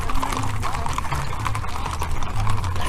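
Horses walking near a town during a Pancho Villa celebration, hooves clip-clopping in a loud, irregular stream of overlapping steps with crowd noise beneath.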